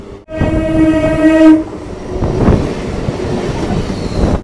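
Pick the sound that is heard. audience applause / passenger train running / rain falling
passenger train running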